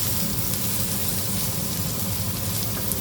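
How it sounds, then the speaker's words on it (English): Rice sizzling in hot oil in a pan while being stirred to coat the grains, heard as a steady, loud, dense crackle with no talking. "frying this rice off long enough to get it all coated with the oil."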